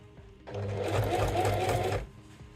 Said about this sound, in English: So I'll actually be gently pulling out the back as it's moving through the seam.